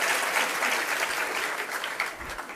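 Applause from an audience at a gathering in Jabalpur, a continuous wash of many hands clapping at a fairly distant, even level throughout.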